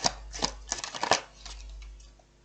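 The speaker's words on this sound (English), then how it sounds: "it's really hard to shuffle a tiny deck as well" A small Kipper card deck being shuffled by hand, giving several quick crisp riffles and flicks in short bursts before fading to quiet, close and fairly soft.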